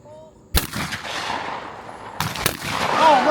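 Shotgun blasts at clay targets on an outdoor shooting range, two sharp loud reports about two seconds apart, each trailing off in a rumbling echo, near, with outdoor noise between.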